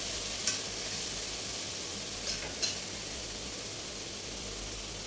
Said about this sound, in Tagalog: Gigisan na natin ang toge.